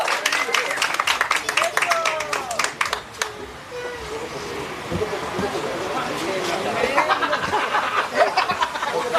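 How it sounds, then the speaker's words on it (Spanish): Applause from a crowd at a carnival handover ceremony in Aruba, dense clapping that gradually gives way to a busy wash of crowd noise and chatter, with voices mixed in throughout. "Eso, un fuerte aplauso un vez más para los Brains y Pancho adulto"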